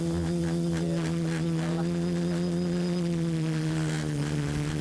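Arduino-built drone motors buzz steadily while the frame rattles from motor vibration, a close, constant insect-like drone with a low hum underneath.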